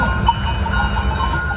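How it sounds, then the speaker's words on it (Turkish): Clanking metal bells on a migrating goat herd jingle steadily and continuously, a dense herd sound with constant low rumble beneath, no talking. "keçilerine taktıkları çan sesleri"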